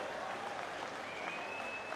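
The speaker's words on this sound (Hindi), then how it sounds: "उनके लिए जोरदार तालियों से उनका स्वागत करें एक साथ मिलकर" A crowd at a political gathering applauds to welcome Congress president Kharge, a steady wash of distant clapping, faint and continuous, with a thin tone running through it.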